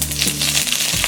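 Curry leaves drop into hot oil already holding mustard seeds and fenugreek, for temple-style tamarind rice, giving a short, steady crackling sizzle with a low hum beneath, close and moderately loud, no voices.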